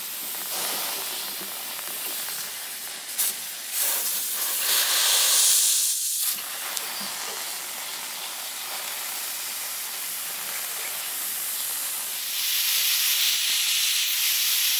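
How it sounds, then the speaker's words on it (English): Steam hisses steadily from a guitar-repair steaming rig loosening the neck joint of a Harmony H1213 archtop guitar, a loud continuous broadband rush with a brief dip midway and a swell near the end. "Let's kill the steam here."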